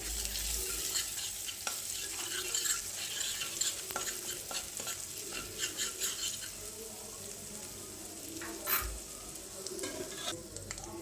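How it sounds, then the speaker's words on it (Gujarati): Masala sautéing in a hot pan, a quiet continuous sizzle broken by repeated scraping and clinking strokes of a spoon stirring it, with no talk. "હવે આને મસાલાને સરસ સાંતળી લઈએ."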